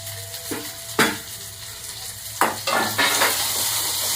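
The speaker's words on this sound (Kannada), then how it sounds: "ಚೆನ್ನಾಗಿ ಎಲ್ಲ ಸೊಪ್ಪನ್ನ ನೀಟಾಗಿ ಫ್ರೈ ಮಾಡ್ಕೋಬೇಕು" Curry leaves, mint and coriander fry in a pan for chutney, a close steady sizzle broken by a few distinct scraping stirs of a utensil against the metal.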